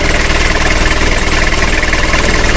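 An engine mounted on an engine bed idles right after starting, a loud, steady, close rumbling drone with a vibrating, slightly knocking texture throughout.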